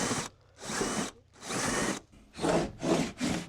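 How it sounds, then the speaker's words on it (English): A power drill whirs in several separate bursts, close by, with short quiet gaps between runs. "Measure once, drill twice. Here we go."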